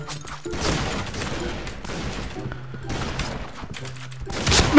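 Gunfire in the shooter Point Blank: repeated bursts of automatic shots, loud and close, with short pauses between volleys and a few heavier impacts near the end.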